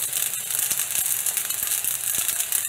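Chinese five spice hitting a very hot wok while egg fried rice with ham cooks, a bright, steady sizzle with light scraping ticks and rattles, close and loud with no talking.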